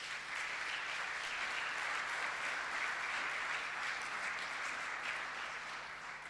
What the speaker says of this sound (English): Maybe we can just give them all a round of applause